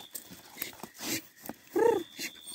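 A hunting dog whimpers at night at an armadillo burrow in the Brazilian sertão, one brief close whine standing out among scattered rustling and digging noises.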